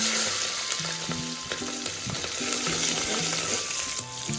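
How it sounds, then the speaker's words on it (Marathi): Green chilli and vegetables (peas, crushed garlic, curry leaves) sauté in hot oil with mustard seeds, cumin and asafoetida for dal khichdi, giving a steady close sizzle with stirring scrapes. Low tonal music runs underneath. "मिरची जरा तेलावर छान परतून घ्यायची आहे आणि मग भाज्या टाकल्या"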